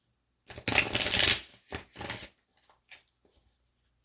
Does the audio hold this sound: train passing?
no